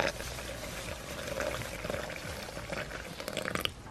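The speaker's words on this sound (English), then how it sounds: "So basically, next thing you guys want to do is add some water in here." Freshly boiled hot water poured into a glass cold brew coffee maker, a steady close splashing and gurgling stream that fills the vessel, continuing without a break for a few seconds.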